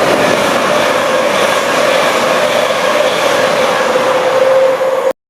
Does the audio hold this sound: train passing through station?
yes